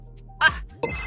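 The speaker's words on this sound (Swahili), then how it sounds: "Nani tena ananipigia simu huku?" A telephone rings in two short electronic bursts with a brief gap between them, fairly close and clear, heard alone without talk.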